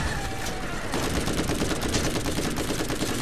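Dense, continuous automatic gunfire from a Borderlands video game battle, loud rapid bursts filling the whole stretch with no pauses.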